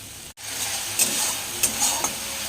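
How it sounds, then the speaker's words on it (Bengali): Ground spice paste for a prawn and pointed gourd dish frying in oil, a close continuous sizzle with a few brief scraping stirs. "এবার এই মশলাটা ভালোভাবে কষিয়ে নিতে হবে"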